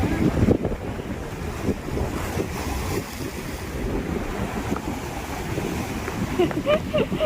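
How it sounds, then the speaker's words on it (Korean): Ocean waves wash onto a Jeju shore under strong wind buffeting the microphone, a loud continuous surf roar with brief faint voices near the end. "파도가 여기까지 올까 봐"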